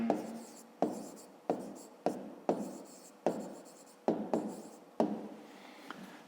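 Pen writing an answer in a school maths notebook, close and clear, in a series of short scratchy strokes with brief pauses between them and no talking.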